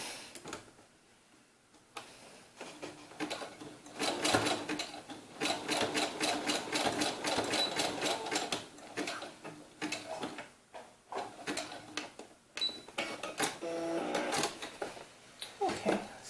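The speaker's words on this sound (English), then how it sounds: "you can do a really tiny zigzag. So let's just go ahead and do that" A sewing machine stitches a tiny zigzag seam on doll fabric for a doll's sunsuit, a steady rapid mechanical ticking and whirring that starts after a quiet pause, runs in close bursts and stops briefly near the end.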